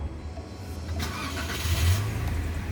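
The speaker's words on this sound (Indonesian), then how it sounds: "Oke, baru kita mulai starter." A Toyota Avanza with a manual gearbox cranks and fires up. The engine settles into a steady, close mid-range hum that swells slightly near the end, with no talking over it.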